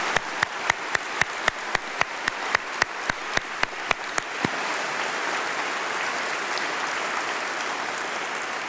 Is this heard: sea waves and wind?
no